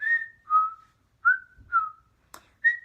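A person whistles a creepy, jaunty tune in imitation of the Creeper from Jeepers Creepers: short sliding whistled phrases, about five in a row with pauses between them, close and clear, with a brief knock midway.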